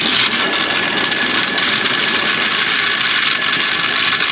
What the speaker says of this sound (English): There's actually snow inside that drive motor. That's what you hear.